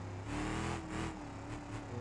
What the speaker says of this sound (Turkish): Araba geliyor karşıdan.